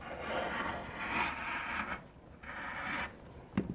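Rotary cutter trimming a quilting fabric edge against a template, a close scraping rub in a few sustained strokes with short pauses between them, ending with a small sharp click.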